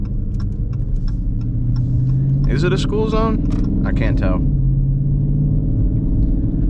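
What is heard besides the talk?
2019 Dodge Charger RT loud exhaust while driving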